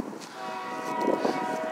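A Union Pacific freight train, locomotive 6848, passing through Saint Elmo, Illinois, with a steady low rumble of rolling cars and tonal horn-like drones, fairly distant and faint throughout.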